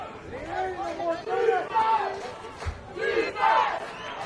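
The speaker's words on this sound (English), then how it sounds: "As again, the Clinton fans are into it. Trying to cheer on their team." Clinton fans in the stands at a high school football championship game yell and chant together, a sustained crowd roar of rising and falling shouts with a nearby voice chattering over it.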